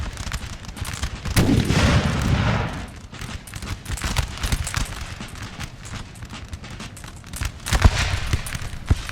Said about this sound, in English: Are you shooting the house? You might want to actually shoot the enemies out there instead.